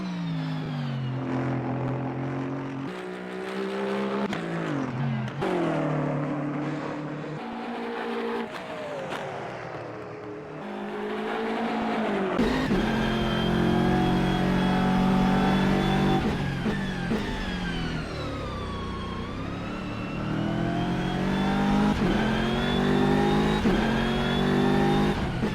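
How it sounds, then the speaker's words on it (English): Aston Martin race car engine in a sim racing game at Brands Hatch, loud and continuous, revving up and down through gear changes with rising and falling pitch sweeps, a few brief drops around downshifts, no voices. "So this Aston Martin pretty fast here."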